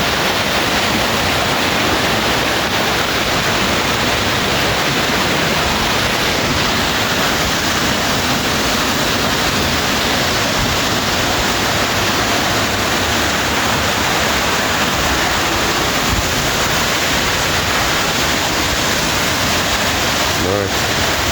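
Steady broadband rush of falling water from a waterfall at a cat farm, continuous and fairly loud throughout with no breaks, like heavy spray and churning flow close by.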